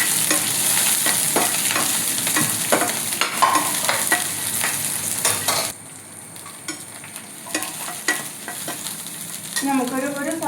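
Green chillies fry and sizzle loudly in a pan, a steady dense crackle with repeated scraping strokes of a stirring spoon, the sizzle dropping slightly partway through as the stirring carries on.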